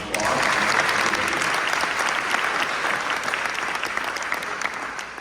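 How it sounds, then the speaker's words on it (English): Sustained applause from an audience at a school graduation ceremony, dense clapping at a steady loud level throughout, tapering slightly at the end. "Let's give her a big round of applause."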